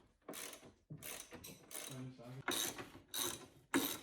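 Ratchet clicking as bolts come off the strut tower brace of a Ford Focus ST, in bursts of rapid metallic clicks separated by short pauses, close and fairly loud.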